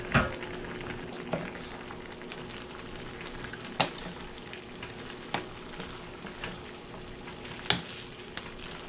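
Mostly cooked potatoes fry in a pan of picadillo, giving a low, steady sizzle broken by scattered sharp clicks and taps from stirring.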